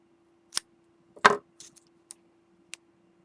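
Embroidery thread is snipped with small scissors, giving a handful of short, crisp, close cuts and ticks spaced apart over a quiet, faintly humming background.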